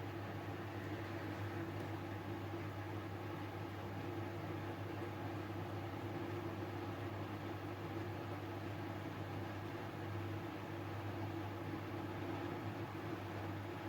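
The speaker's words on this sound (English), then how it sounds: "I've heated it up as well in front of the fan that you can hear in the background" An electric fan runs steadily in a room, giving a constant, even whooshing drone with a low hum, unchanging throughout and moderately quiet.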